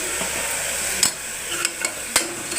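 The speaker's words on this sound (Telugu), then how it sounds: "బ్రౌన్ కలర్ వచ్చేదాకా ఇలా వేయించుకోవాలి మంచిగా" Onions and turmeric fry in a pan, a soft steady sizzle broken by a few sharp taps and scrapes of a spoon against the metal.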